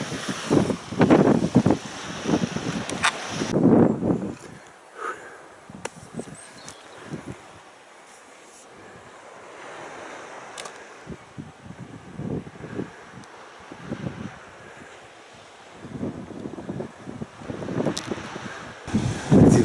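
Wind at a beach in Andalusia buffeting the microphone in loud, irregular gusts, with quieter breathy stretches of rushing air and faint surf between the blasts.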